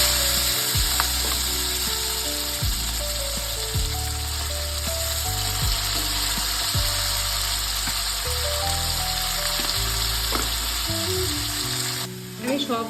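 Marinated pabda fish added to hot oil with black cumin, giving a loud, continuous close-up sizzle with spattering crackles like rain and occasional utensil knocks, dropping briefly near the end.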